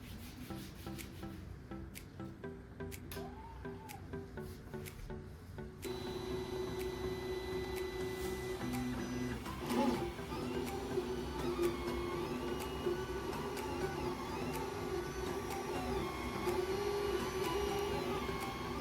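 3D printer printing an Iron Man helmet from filament, a steady mechanical whir and rubbing hum that grows louder partway through, with small clicks and shifts in pitch as the print head moves.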